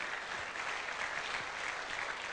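Sustained audience applause fills a seminar hall as a couple are honoured on stage, a dense, even wash of clapping that holds steady without a break.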